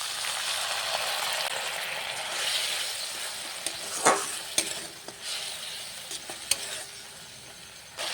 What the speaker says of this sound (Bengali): এইবারে দিয়ে দেবো আমি সামান্য পরিমাণে জল।